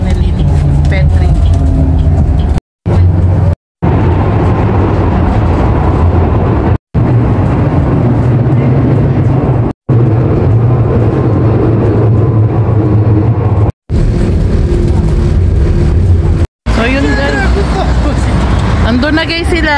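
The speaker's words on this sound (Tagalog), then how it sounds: "Kasabay kami sa tram ni Jeneline Petri" Rumbling ride aboard a tram in Romania, a steady, loud low drone of wheels and motor with passenger chatter mixed in, broken by a few brief dropouts.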